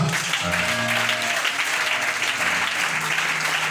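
A church congregation applauds together, a steady dense clapping that fills the space throughout, with no speech over it.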